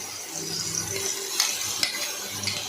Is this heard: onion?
yes